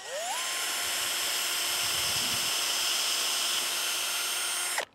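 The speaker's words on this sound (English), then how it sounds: "Going to pre-drill it so we don't damage the don't split the wood. Just a small pilot hole" A power drill whines steadily at high pitch for a few seconds, close by, boring a small pilot hole in wood for a raspberry trellis, then cuts off abruptly, with no talking.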